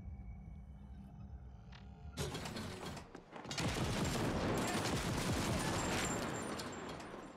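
The Overwhelmer gun in The Ascent fires in a dense, rapid burst after a mechanical clack, sustained loud crackling shots close up for several seconds, no talk.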